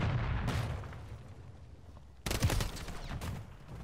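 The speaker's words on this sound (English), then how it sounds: "I just like shooting my gun sometimes." Gunfire in Modern Warfare III: loud, close shots, a cluster early on and then a heavier burst of rapid firing near the end, with boomy low-end weight.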